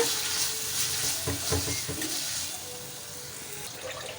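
Tomatoes fry in oil in a pan, a steady sizzle with a few louder crackling bursts and stirring near the start, then an even hiss at close range with no voices.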